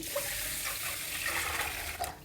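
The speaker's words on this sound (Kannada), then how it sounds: "ಈಗ ಫ್ರೆಶ್ ನೀರು ಹಾಕ್ತಾಯಿದ್ದೀನಿ" Fresh water is poured onto washed rice and lentils in a kitchen, a soft continuous tap-like stream with gentle splashing.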